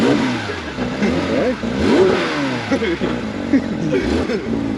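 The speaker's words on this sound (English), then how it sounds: "You got to rev it up so you can hear it." A Porsche engine revs and roars loudly, rising and falling in pitch, with voices talking over it.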